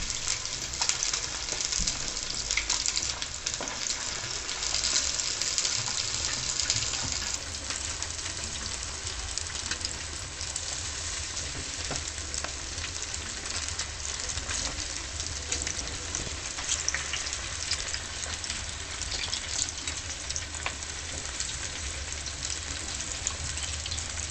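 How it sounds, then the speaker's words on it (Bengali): Fish pieces fry in hot oil over a medium flame, giving a steady, loud, close crackling sizzle that runs unbroken throughout with no voices. "কিন্তু দুটো মিডিয়াম ফ্লেমে করে বেশ সুন্দর করে মুচমুচে করে ক্রিসপি করে কিন্তু ভেজে নিতে হবে"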